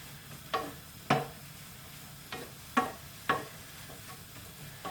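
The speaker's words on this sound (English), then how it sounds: "you need to fry it off for a good 5 minutes just to soften your onions and your garlic and your cabbage" Cabbage, onions and garlic soften in a frying pan, a faint low sizzle under about six distinct scraping stirs spaced unevenly, close by with no voices.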